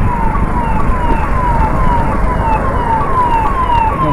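An emergency vehicle siren, ambulance or police car, wails on a city street in Ayodhya, its repeating falling sweeps loud and near over road noise, with no one speaking.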